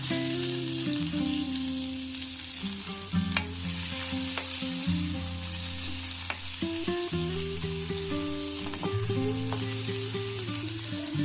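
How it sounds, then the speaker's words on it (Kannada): Onions frying in a little oil for jeera rice, stirred continuously until they turn fully red-brown: a steady close sizzle with scraping strokes and occasional sharp clicks of the spoon against the pan, no voices. "ಈರುಳ್ಳಿ ಎಲ್ಲ ಪೂರ್ತಿ ಕೆಂಪು ಬಣ್ಣ ಬರೋವರೆಗೂ ಹುರ್ಕೋಬೇಕಾಗತ್ತೆ"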